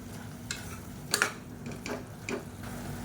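Soya chunk kurma being stirred in a pan after coconut paste is added, with a few soft scraping and stirring strokes over a low steady hum and faint sizzle.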